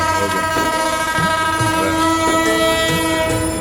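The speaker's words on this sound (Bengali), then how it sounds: "এটা চিটাং শাটলের সাউন্ড" The Chittagong shuttle train passes close by, its loud, sustained horn blaring over the rumble and clatter of the rail cars throughout.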